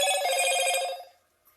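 A telephone bell rings in a single bright, loud burst that cuts off and fades within about a second.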